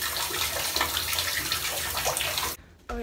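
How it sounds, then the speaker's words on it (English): A shower running in a steady, broad hiss of falling water, close by, cutting off abruptly near the end. "I'm gonna go take a shower."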